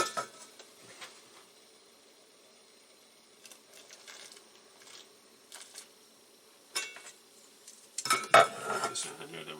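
Pasta stirred with a utensil in a pot of water coming up to a boil, giving faint, scattered clinks and scrapes against the pot that grow louder and busier toward the end.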